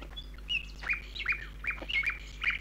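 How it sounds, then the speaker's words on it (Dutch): A nightingale singing in the evening outdoors, a repeated series of clear, whistled phrases and chirps at a steady rhythm, moderately near and alone. "Ja, de nachtegaal."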